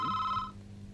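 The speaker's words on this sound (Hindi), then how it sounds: "फोन आया है, देखता हूँ।" A telephone gives one short ring tone that cuts off after about half a second and leaves quiet background.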